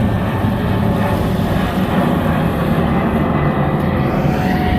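An airplane flies near San Francisco Airport, heard from Oyster Point Marina as a steady, loud, broadband roar that holds without a break for about five seconds.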